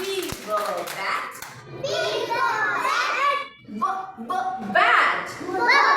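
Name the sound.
clapping for a child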